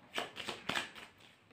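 Tarot cards being shuffled and drawn by hand, a few soft, quick papery swishes and flicks close by, fading into quiet near the end.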